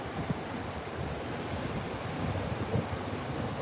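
Gentle surf washing over very shallow water at Fort Myers Beach, Florida, a steady soft wash and hiss with wind noise on the microphone, no talking.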